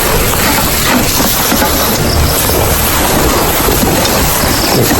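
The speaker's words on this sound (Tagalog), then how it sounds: "Ayan oh, lakas na ng ulan." Heavy rain pours down at a streamside campsite in a dense, loud, unbroken hiss close by, with no voices.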